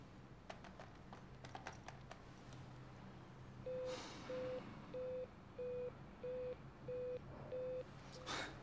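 A telephone busy signal sounds as a steady run of seven evenly spaced beeps, moderately loud, following a few clicks of keys being pressed on the phone, with faint room noise underneath.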